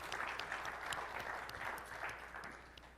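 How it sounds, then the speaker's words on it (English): A conference crowd at Microsoft Build 2018 breaks into steady applause, a dense wash of clapping that holds fairly even and fades a little near the end. "So can we give them a round of applause?"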